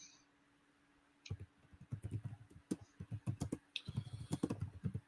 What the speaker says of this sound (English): I was finishing typing up that